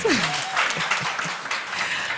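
Applause from an assembly audience at a citizen meeting on debt and anti-corruption, a short dense patter of hands with a voice rising briefly over it near the start.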